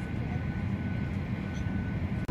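Steady broadband cabin rumble inside a Boeing 737-800NG airliner before takeoff, a constant low engine and air-system drone filling the whole stretch with a brief dip near the end.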